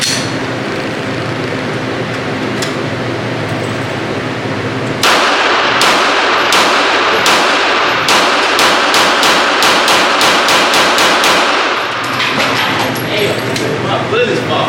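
Gunshots at a shooting range crack in a rapid run of sharp, loud reports from about five seconds on, some spaced and some in quick bursts, with a steady background hum and people talking around them.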